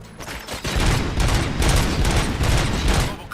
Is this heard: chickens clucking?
no